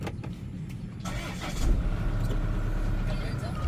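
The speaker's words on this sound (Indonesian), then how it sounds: "lumayan garang sih suara mesin dieselnya, dan idle-nya juga cukup halus" A Land Rover Discovery Sport diesel engine cranks and fires after a push-button start, then settles into a steady, fairly smooth idle with a low rumble, close by and loud.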